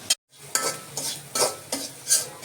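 A spoon scrapes and stirs spices through a sizzling pan in several short, rhythmic strokes, close up, with a light frying hiss underneath.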